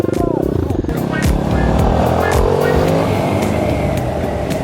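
Two motorcycles, a Honda NC700 and a Kovi 300 Advance, riding along a road, engines droning loudly and steadily with shifting revs and strong wind rush, while riders talk over the noise.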